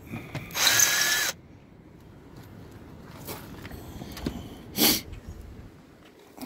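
Power drill backing screws out of a poppet valve cover on a Mercury Verado outboard, with one longer whirring burst and a couple of short later bursts separated by quiet handling noises, close by.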